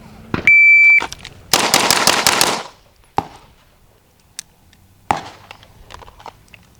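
Staccato P pistol fired at a shooting range: a shot-timer beep, then a fast, tightly spaced string of loud, sharp reports, followed by a few isolated single shots further apart.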